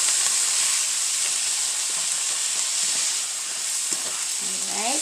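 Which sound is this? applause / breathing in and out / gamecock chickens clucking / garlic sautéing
garlic sautéing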